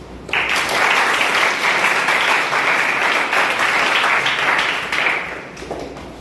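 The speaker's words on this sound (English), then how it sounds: "Give them a round of applause." Applause from a school audience after a student group presentation, a dense, loud burst of clapping that starts abruptly, holds for about five seconds and then dies away.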